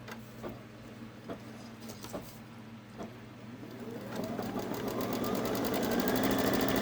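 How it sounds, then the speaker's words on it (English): A Babylock Solaris embroidery-capable sewing machine runs a lock stitch: a few soft clicks, then the motor spins up into a steady, rising rapid whir, close and moderately loud. "Okay, let's do a lock stitch."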